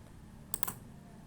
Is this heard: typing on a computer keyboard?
yes